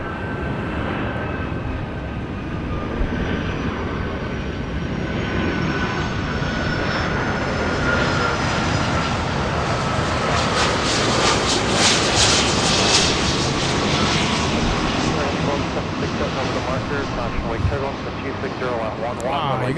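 Delta Boeing 757-300 with Rolls-Royce RB211 engines at Los Angeles International Airport, a loud, sustained jet roar and whine that swells toward the middle and holds steady throughout, with a voice talking over it.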